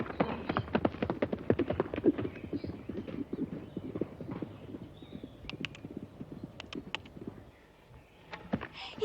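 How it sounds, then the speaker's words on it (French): Donkey hooves clip-clopping at a steady walk while being ridden, a close run of sharp rhythmic knocks that continues for several seconds and then thins out to a few scattered steps. "À cheval sur son âne, ma petite mamselle Marianne"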